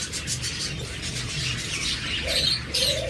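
Close-ringed, locally bred lovebirds chirp steadily in a busy flock, with dense high twittering and calls layered over low background noise and no talk.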